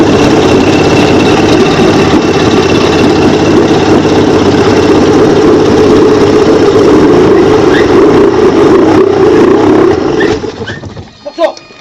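A carburetted Suzuki 85 hp outboard motor idles loudly and close by with a steady rumbling chug for about ten seconds, then dies away, leaving a few faint knocks.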